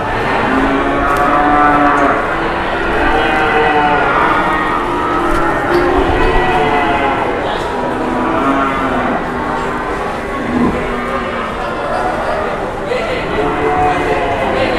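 Cattle at a cattle trading site moo loudly and continuously, many animals close by calling over one another in dense overlapping lowing throughout, with a busy crowd murmur beneath.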